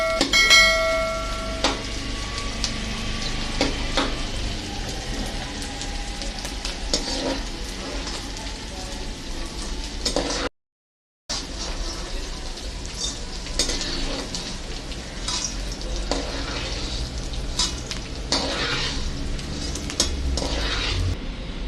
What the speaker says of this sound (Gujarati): બાકીનો ગુંદર પણ આ રીતનો તળી દેશું.